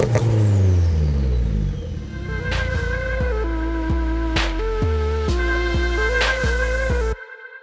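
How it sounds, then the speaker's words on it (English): The 1.8T engine of a tuned 522bhp Audi A3 race car revs hard, one long climbing pull followed by a series of sharp rising and falling rev bursts, loud and close, cutting off abruptly at the end. "we are out in this crazy A3 and I hope you can hear us because it is loud as hell"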